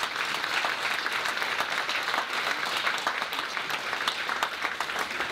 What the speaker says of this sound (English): a big round of applause for those people